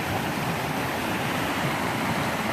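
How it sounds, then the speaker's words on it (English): A small river flowing along a backpacking trail in Algonquin Park in April, a continuous, full rushing wash of water that is close and steady, with no talking. "river that I'm crossing here"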